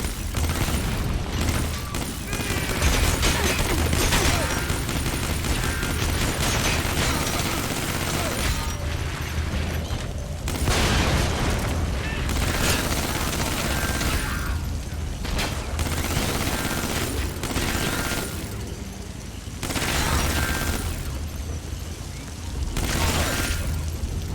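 Sustained, heavy Gatling gun fire in the Metal Gear Solid V video game, pounding in long loud bursts with brief gaps and booming impacts, with a voice talking over it at times.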